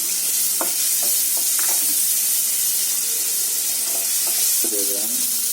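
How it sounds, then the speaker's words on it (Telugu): Chopped onions hit hot oil in a pan for prawn pepper fry, giving a steady loud sizzle with a few stirring scrapes and spatula clinks, no voices. "కొంచెం చాప్ చేసుకున్న ఆనియన్స్ వేసుకుంది"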